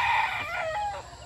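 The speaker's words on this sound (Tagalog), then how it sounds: "may mga manok doon" A rooster crows among clucking chickens at a gamefowl farm, the call rising clear and fairly close over soft background clucks, with no talking.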